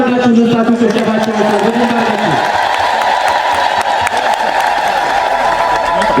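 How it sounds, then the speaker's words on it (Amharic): A congregation at an Orthodox church service bursts into sustained applause that fills the space, opening under a voice and continuing as a dense wash of clapping. "እስቲ ከፍ አድርጋችሁ ልታችሁ ጭብጨባችሁ"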